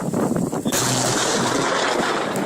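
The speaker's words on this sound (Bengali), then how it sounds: "Just missed a huge lightning bolt." A huge lightning bolt strikes close by during a storm in Greece, a sudden loud thunderclap breaking in as a sharp onset, then a dense, sustained roar and crackle rolling on under steady wind noise.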